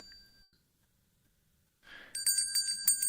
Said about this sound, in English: Here's some bell.